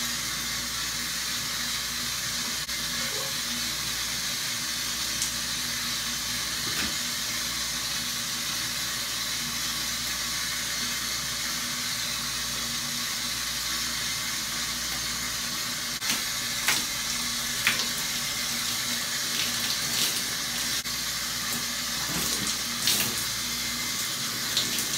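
Tap water runs steadily for a long stretch during hair washing, a constant even hiss with a few splashes and knocks near the end, and no voices.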